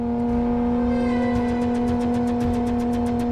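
A high-revving Ferrari sports car engine holds a loud, steady, sustained howl at full tilt, its pitch edging slightly upward. Nobody speaks.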